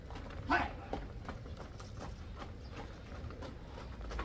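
A galloping horse's hooves clip-clop in a steady, quick rhythm at a moderate distance, over a constant background rumble, with no talk.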